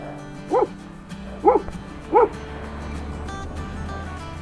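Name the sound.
dogs barking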